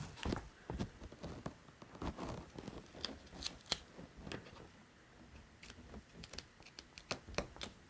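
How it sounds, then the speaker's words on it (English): Scissors snip steadily through paper or release paper, a quiet close series of crisp irregular cuts with brief pauses between runs. "Use scissors."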